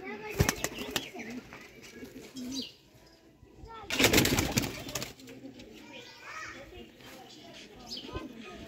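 Teddy pigeons cooing in a breeder's loft, soft murmuring calls and a few wing flaps scattered through steady talking, with a louder burst of activity midway.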